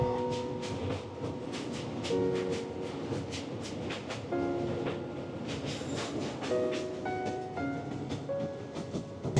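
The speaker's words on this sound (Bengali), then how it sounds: "আর আমাদের ট্রেন এখন ক্রস করছে হুগলি ঘাট" The Teesta Torsa Express rumbles and clatters loudly and close while crossing a bridge over the Hooghly River, with rhythmic wheel clicks, metallic squeals and ringing tones over a steady roar; no speech.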